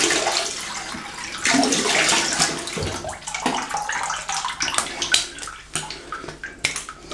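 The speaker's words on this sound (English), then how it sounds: "Cold water rinse." Cold tap water running while a Gillette Skinguard cartridge razor is rinsed, a close, splashy stream with uneven bursts and gurgles that fades and returns over several seconds, with no voices.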